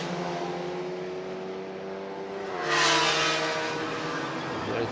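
Two Porsche race cars battle during a WSMP and BaTCC circuit race in Riga, their engines droning steadily in a harmonic roar that swells and shifts pitch as one car passes closer midway.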